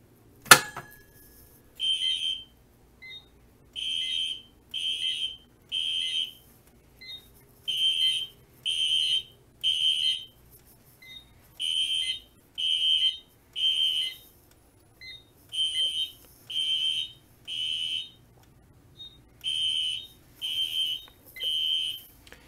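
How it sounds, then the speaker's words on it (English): A Siemens MS 10B pull-station fire alarm sounds at the panel in repeated bursts of high buzzing tones, grouped in rhythmic sets of three with short gaps, steady and fairly clear. "you'll be hearing the alarms over there at the panel"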